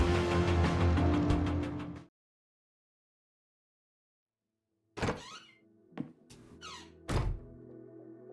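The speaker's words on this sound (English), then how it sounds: "That cranky drawer is stuck good." A stuck drawer rattles, thunks and squeaks in the Kathy Rain 2 video game, with a dense burst of jolting at first, then silence, then a few sharp thunks and creaks, close and alone.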